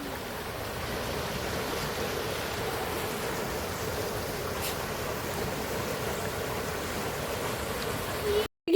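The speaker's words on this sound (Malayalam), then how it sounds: "അപ്പോൾ നമുക്ക് ഈ വെള്ളം ഒഴുകുന്നതിന് ശബ്ദം അതുപോലെ തന്നെ ഒന്ന് കേട്ടാലോ." Water flows from the Peechi dam past paddy fields outdoors, a steady, close rushing wash that holds an even level throughout, with no voices over it.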